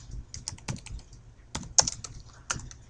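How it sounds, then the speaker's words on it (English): Quick bursts of clicking keystrokes on a computer keyboard, close and fairly quiet, come in uneven clusters with brief pauses between them, and no one speaks. "Let's type it up, get it on real quick."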